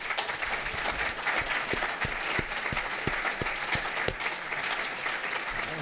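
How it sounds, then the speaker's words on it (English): A seated audience gives panelists at a dining and design conversation with David Chang and Anwar Mekhayech a sustained, even round of applause, with a few louder claps up close. "let's have a round of applause for our panelists"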